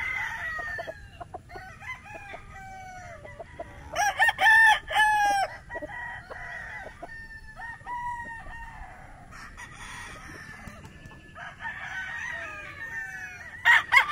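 Kanawayon gamefowl roosters crow again and again, their calls overlapping from near and farther off, with scattered clucks between the crows and no voices.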